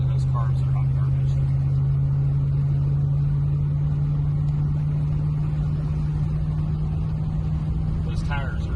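A 1975 Rolls Royce Silver Shadow with SU carburetors pulling along in second gear, a steady low engine drone heard from inside the car, continuous and loud, with people talking briefly over it.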